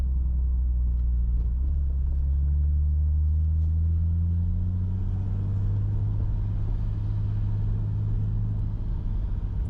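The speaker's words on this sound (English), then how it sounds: "Car around the corner, you reckon?" A car approaching from around a corner on a quiet Sunday road: a steady low engine rumble with a slowly rising tone that holds for several seconds, moderately loud and alone.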